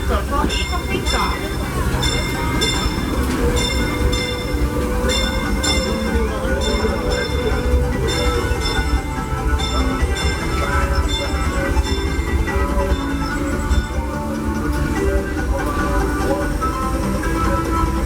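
The Disneyland Railroad excursion train, led by steam locomotive Fred Gurley No. 3, rumbles steadily into Tomorrowland Station with continuous wheel and track noise, clanks and a ringing bell, while passengers chatter nearby.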